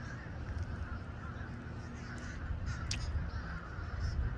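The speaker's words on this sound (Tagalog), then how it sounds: "Oh my God, kadaghan. Daming birds." A flock of birds calls outdoors near a small garden, with scattered faint caws and squawks over a low, steady background rumble.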